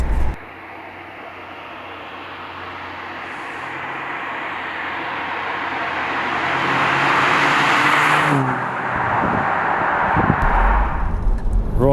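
A BMW Z4 drives along the road, a steady engine and road-noise rumble building gradually in loudness, then easing briefly before picking up again with rougher surface and wind noise.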